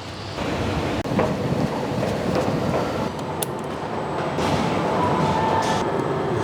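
A metro train at an underground station roars steadily and loudly, with a broad rumbling rush and faint high squeals and clanks; no one speaks.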